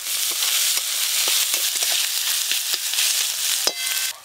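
Chopped onion frying in a pan while cooking a Bengali egg curry: a continuous loud sizzle with occasional stirring scrapes and clicks, no voices.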